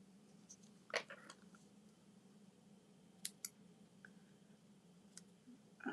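Snips cut through patterned paper with a few sparse, crisp clicks spaced across a quiet, low-level background, with no talking.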